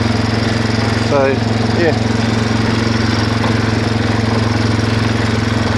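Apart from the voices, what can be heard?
Suzuki 4x4 400 cc quad bike engine idling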